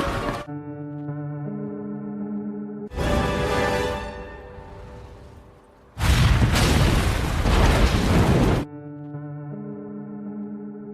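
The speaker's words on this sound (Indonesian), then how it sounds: "Jack Sparrow langsung menuju mercusuar dan meledakannya." Two loud explosions of a lighthouse being blown up break over a sustained musical tone, the first a booming burst that fades, the second a longer, roaring blast with rumbling debris.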